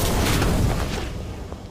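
Incendio fire spell cast in the Harry Potter Magic Awakened game bursts out as a short, loud booming whoosh that quickly fades.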